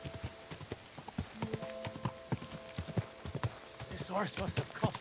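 Horse hooves clip-clopping in the video game Kingdom Come Deliverance 2, a steady rhythmic series of close hoof strikes with a brief whinny near the end, under a person talking.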